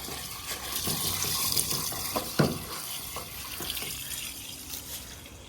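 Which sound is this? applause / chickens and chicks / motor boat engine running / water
water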